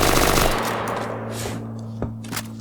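An AK-47 in a Minecraft guns setup fires a fast burst of rapid shots that fades out, followed by a couple of isolated pops over a steady background hum.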